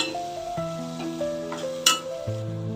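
Okra masala with kasuri methi, coriander powder and onion sizzles in a pan while a spoon stirs it, with soft scrapes and a sharp clink of metal near the end, close up and with no one talking.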